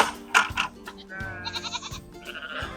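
Young goats bleat on a farm in short, close, wavering cries that come several times in quick succession, with clattering knocks between them.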